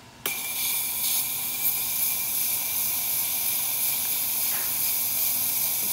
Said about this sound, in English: And then we'll run the steam and hot water function.